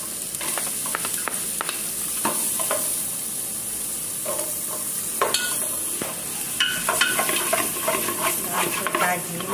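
Onion frying in margarine in a pan gives a constant bright sizzle, with a utensil stirring and scraping in scattered clinks and scrapes, close and fairly loud, no talk.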